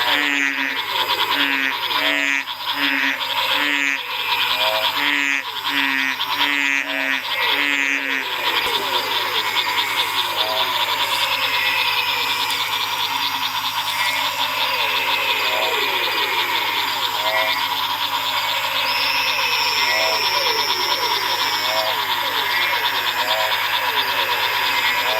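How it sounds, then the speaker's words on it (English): A dense chorus of frogs and toads calls at night just after rain in the Paraguayan Chaco, steady and loud throughout, with rapid repeated croaks up front giving way to an overlapping continuous trilling wall of calls. "There's so many frogs and toads around, it's incredible, unbelievable."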